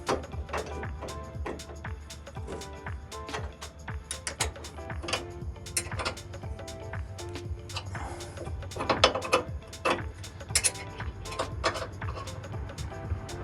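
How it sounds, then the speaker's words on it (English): Two wrenches tighten the rear lift shackle bolts on a Ford F-150, making quick, uneven metallic clicks and ratcheting ticks up close, alone without talk. "I just prefer to use the 2 wrenches on the one side."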